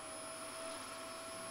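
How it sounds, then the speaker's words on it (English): A vacuum cleaner sucking up household objects in the video game Kill It With Fire, a faint, steady whooshing suction hum with a thin high whine, continuous and unbroken. "It's not just a vacuum cleaner."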